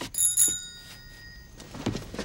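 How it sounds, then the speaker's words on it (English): Eerie bell from the Leprechaun horror film, a few thin high ringing tones in a quick burst near the start, with fainter rings and rustling afterward and no speech. "Ozzy, will you cut it out with that stupid bell?"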